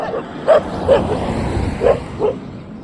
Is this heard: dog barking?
yes